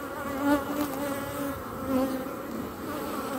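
Honey bees hum in a dense, steady drone inside a beehive, close and continuous, with individual buzzing tones swelling and fading.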